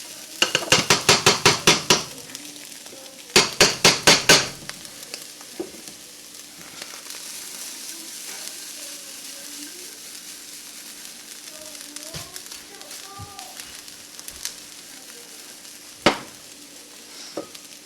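Vegetables sizzle steadily in hot oil, with two bursts of rapid metallic scraping and tapping from a utensil against the pan early on and a later clank.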